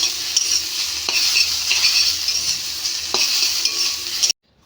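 Dhenki shak, fiddlehead fern, fries in a pan with a loud steady sizzle while a utensil stirs and scrapes at intervals, ending abruptly in silence.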